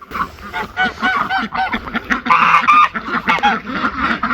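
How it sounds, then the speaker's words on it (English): Several jumbo ducks on a homestead quack and honk in busy, overlapping bursts, close and loud, forming a steady noisy chatter across the whole stretch with no pauses. "Oh, she's quacking."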